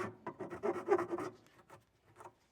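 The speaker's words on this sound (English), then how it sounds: "We're going to file these edges smooth." A file rasps back and forth along the cut edges of a plastic speaker lid for a Harley Road Glide audio kit, in a quick series of close, soft scraping strokes that slow and thin out near the end.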